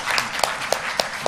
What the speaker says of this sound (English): Give a big applause to Dr.